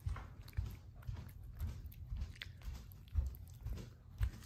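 A pet bird nibbles and chews a small snack bite given by hand, making faint, rapid crunching clicks in an irregular rhythm, close up in a quiet indoor room with no voices.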